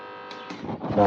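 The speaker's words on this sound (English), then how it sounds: "You can see the way it's struggling to start it up." A 135W fan motor running on a modified sine wave inverter hums with a steady whine, then sputters and strains unevenly as it tries to spin up, brief and close.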